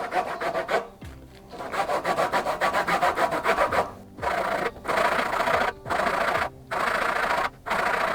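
Lemon zest being grated on the small holes of a grater: repeated rasping strokes, close and distinct, broken by short pauses between passes.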